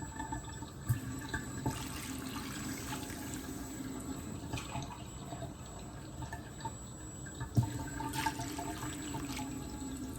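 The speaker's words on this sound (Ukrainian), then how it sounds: "Заливаю водою так, ну, щоб макарони були, ну, такі, знаєте, майже прикриті." Water poured over macaroni in a pot for a macaroni and mince dish, a faint, steady trickling flow with a few soft drips and splashes.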